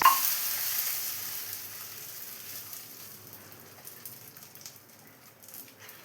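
Fried onion tempering is poured into a cauliflower curry, a brief sizzling burst at the start that fades into a soft, faint crackle with scattered small pops.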